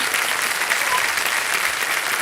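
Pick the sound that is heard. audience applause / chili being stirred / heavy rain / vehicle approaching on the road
audience applause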